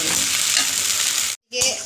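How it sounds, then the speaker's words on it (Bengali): Spice paste of cumin, coriander, chilli and tomato fries in a pan with a loud, steady sizzle close by, briefly cut off before the sizzling resumes. "মশলাটা একটু ভেজে নিই"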